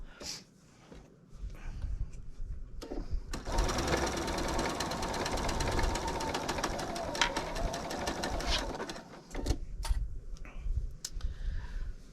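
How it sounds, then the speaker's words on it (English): A sewing machine stitches through a single layer of fleece for a blanket, its rapid even mechanical chatter running loud and close for several seconds, with quieter handling sounds before and after. "before you put your 2 pieces together, so you're only sewing through 1 layer."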